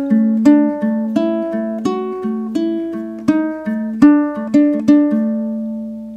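Ukulele plays the last three bars of an interlude, plucked notes and chords in an unhurried rhythm, each ringing briefly before the next, clear and solo.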